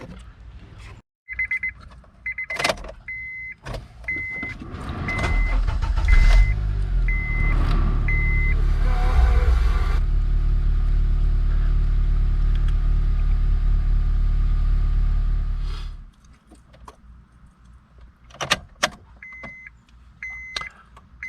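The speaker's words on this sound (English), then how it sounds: "start the engine and let the oil settle a little bit" A 2006 Honda Accord engine cranks and catches, then idles steadily for several seconds before shutting off, preceded and followed by short electronic beeps and chimes from the car.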